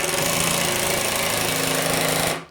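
An AEG cordless impact driver drives a large screw with a loud, continuous rapid hammering rattle close up. It stops abruptly just before the end.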